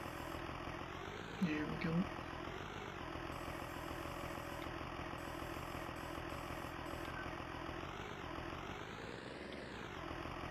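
A tractor engine idles in Farming Simulator 19, a steady mid-low hum that holds level throughout, with someone speaking briefly over it near the start.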